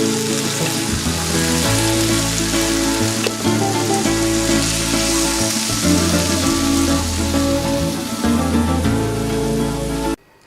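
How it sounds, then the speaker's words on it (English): Rice stirred into a hot pan of sizzling beef for paella gives a loud, steady, crackling fry throughout, with scraping and stirring noises on top, ending abruptly. "Let's mix that rice in."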